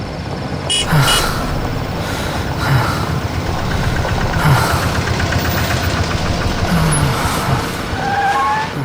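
A broken-down car's failing engine in a CID episode knocks and rumbles with a steady, loud mechanical drone that swells at moments across the whole stretch, with no voices.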